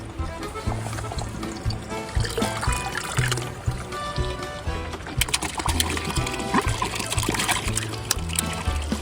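Water trickles from the supply at a small mountain bivouac in Valle Costa dei Nass, Val Zoldana, a steady close dribble with a dense, busy layer of other sound over it.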